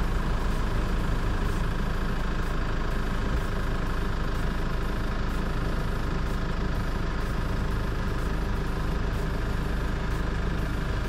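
A four-wheel-drive car stopped on a rough track in Cape York, its engine idling in a steady, loud, unbroken drone that stays constant throughout.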